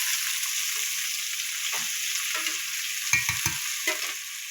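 Cauliflower frying in a pan, giving a constant hissing sizzle with a few soft thuds and scrapes as it is stirred toward the end. No one speaks.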